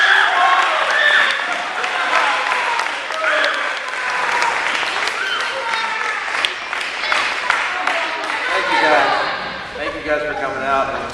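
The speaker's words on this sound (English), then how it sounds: "Would you guys join me in welcoming Jake McDonough?" An audience at a YMCA gathering breaks into sustained applause to welcome a speaker, many hands clapping continuously for about ten seconds with scattered cheers and voices mixed in.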